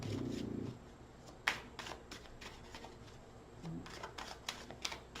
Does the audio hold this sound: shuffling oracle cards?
yes